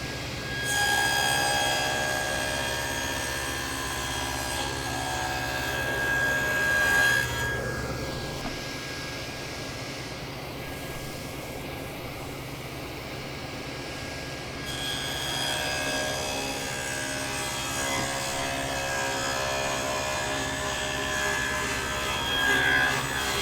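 A woodworking cutter cuts grooves in wood for a curved dovetail drawer, making a loud continuous whirring drone. It dips briefly partway through, then resumes steadily, with no talking over it.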